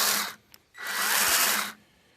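A 20-volt max battery pruning chainsaw from Canadian Tire, two years old, with a lubed chain and no self-oiler, whines close up in two bursts, a short one followed by a longer steady run before cutting off.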